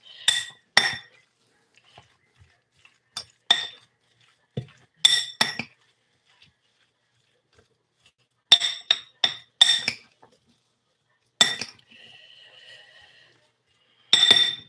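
Metal spoon clinking against a bowl while stirring onion bites batter, sharp bright taps in irregular clusters with quiet pauses between, close and loud.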